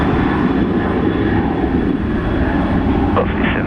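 A Virgin Australia airliner bound for Melbourne roars on its takeoff run at Brisbane Airport, a steady, loud, broadband engine rumble that holds without letup throughout.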